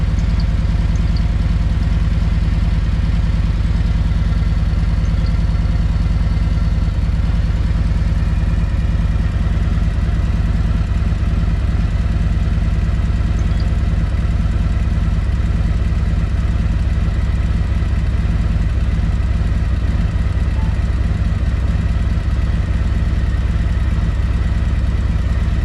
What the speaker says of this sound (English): now we're gonna start the bike